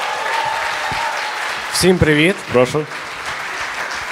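Audience at a Ukrainian government presentation applauding steadily, a diffuse wash of clapping heard throughout, while someone speaks briefly over it near the middle.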